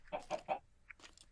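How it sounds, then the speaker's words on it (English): Chickens clucking in the video game Minecraft, a few short, clear clucks in quick succession, fairly quiet and alone. "And there are chickens down here."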